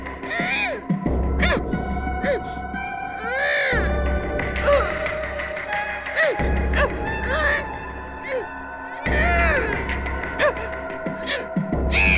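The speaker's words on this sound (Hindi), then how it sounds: "रोने की आवाज" Crying plays from a tape recorder in a room, a wavering, whimpering voice with gasps that rises and falls in repeated bursts over a steady low throbbing hum.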